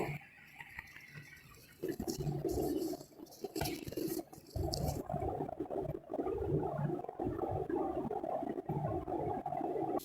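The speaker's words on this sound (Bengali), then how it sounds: "এবার ঢাকা দিয়ে পাঁচ মিনিট ফুটতে দেব" Potato and pointed gourd curry bubbles under a lid, a soft, wet, irregular burbling that swells in uneven bursts after a quiet start, close by and with no talk.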